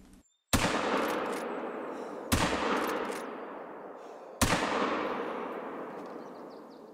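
Three sharp rifle shots ring out in the hunting game theHunter: Call of the Wild, each a sudden crack followed by a long rolling echo that fades across open terrain, spaced roughly two seconds apart.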